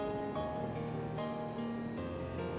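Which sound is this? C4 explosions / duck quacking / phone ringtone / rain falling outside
rain falling outside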